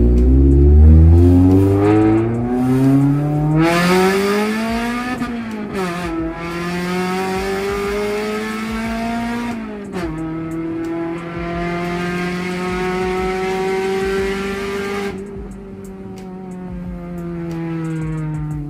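A Honda Civic EF with a SOHC engine and a check-engine fault pulls hard in first gear, its loud, close engine note climbing through long rising sweeps between shifts, with no voices.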